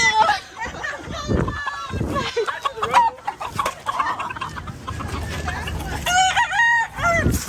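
Chickens cluck and squawk loudly in agitated bursts as they are caught at a flea market in Canton, Texas, while people talk and shout nearby amid scuffling.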